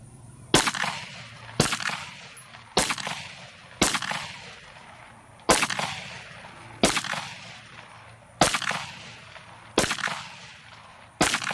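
Sharp, loud pistol shots from a Sig P320 Spectre Comp ring out at a shooting range, about ten evenly spaced reports each followed by a short echoing decay, with no voices.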